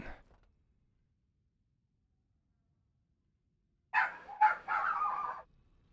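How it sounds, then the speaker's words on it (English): Dogs bark in a short flurry of several sharp, fairly close barks near the end, after a long stretch of near silence. "And there are barky dogs."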